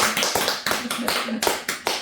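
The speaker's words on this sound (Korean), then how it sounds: "아, 박수." Clapping from an audience at a Buddhist dharma lecture on the Compassionate Samadhi Water Repentance, arriving in uneven bursts of hand claps mixed with voices.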